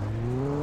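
A car engine in the Alan Wake video game, likely a stock car, runs with a steady, rising drone that holds loud and close for the whole moment, with no talk over it.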